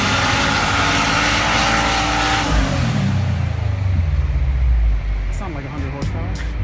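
Tuned 2015–2021 Subaru WRX STI with custom maps revving hard, a loud sustained engine roar that climbs and then falls as revs drop, ending in a steady lower drone.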